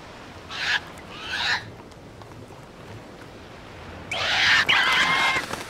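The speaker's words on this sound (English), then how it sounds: "The crows are attacking me." Crows caw harshly while attacking in the video game Prince of Persia: Warrior Within, two short squawking bursts followed by a longer, louder flurry of cries near the end.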